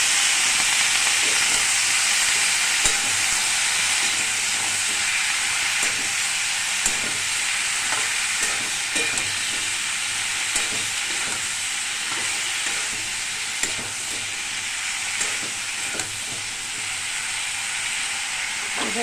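Washed eggplant pieces hit hot oil with a loud, dense, continuous sizzle and hiss, steady throughout with faint spattering crackles close up, no voices.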